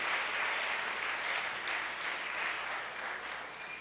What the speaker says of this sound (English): please give the school band a round of applause for the wonderful music that they continue to do